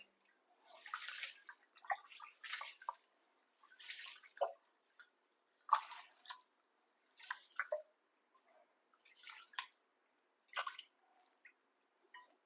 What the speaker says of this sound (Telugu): ఇది ముందుగానే వాష్ చేసి నానబెట్టేద్దాం